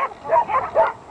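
A female dog gives a few short, quick barks or yips, three bursts in about a second, moderately close.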